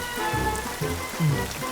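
Rain falling steadily in a short burst of close, even patter on a hard surface, with no voices.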